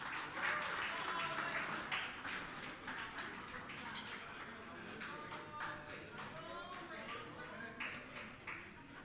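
Conference delegates give a round of applause welcoming the afternoon session's chairperson, steady dense clapping with individual claps standing out, heard fairly faint with some voices underneath.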